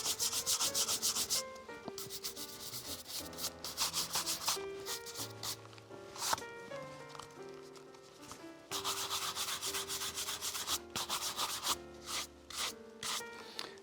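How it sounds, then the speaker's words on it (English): A Chanel pump is buffed to a higher shine with Saphir wax: repeated quick rubbing strokes in rhythmic bursts, fairly quiet, with tonal sounds running beneath. "What we're doing now is we're just taking off any excess, and then we're taking those waxes up to a slightly higher shine."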